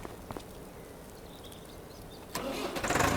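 A tractor engine in Farming Simulator 25 cranks and catches, rising from a quiet background into a louder, steady mid-range running sound near the end, with no talking.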